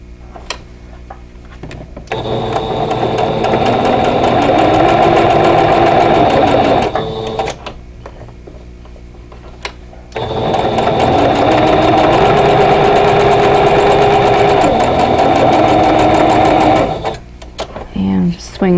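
Sewing machine stitching nested quilt block seams, a loud steady motorized whir in two long bursts separated by a short pause, close up, with faint mechanical knocking beneath and quiet gaps between runs.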